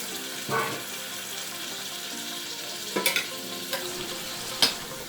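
Pinoy beef masala simmering in a pan just after stock goes in, with a constant bubbling sizzle and a few sharp scrapes and clinks as a spoon stirs it.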